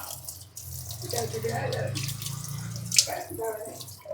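Water is poured over a whole river fish, splashing and trickling steadily for a few seconds, with a low hum underneath and a brief sharper splash near the end.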